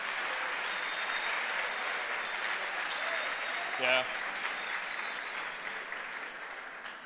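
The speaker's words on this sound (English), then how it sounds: "Can I ask you for a big round of applause" A crowd gives a long, steady round of applause at a hackathon closing ceremony, dense clapping throughout, with a voice briefly heard over it.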